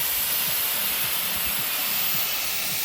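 Steady loud hiss of steam venting from an overcharged LiFePO4 lithium iron phosphate battery, continuous and close throughout, with faint low knocking underneath.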